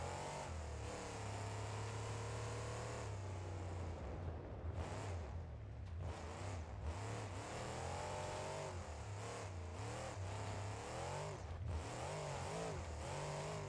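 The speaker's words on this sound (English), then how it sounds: "Right now it just sounds like a lower power monster truck." A deep monster truck engine in BeamNG.Drive revs and shifts repeatedly, its pitch sweeping up and down in surges like a heavy truck accelerating, loud and continuous.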